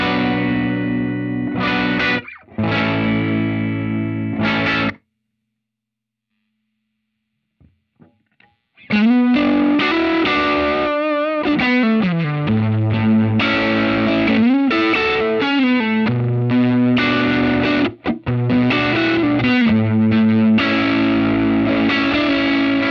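Electric guitar played through a Helix ADT tape double tracker effect, distorted and doubled with a chorus-like shimmer, two chords ringing loud, then a pause before a busy melodic run with sustained notes, no talk.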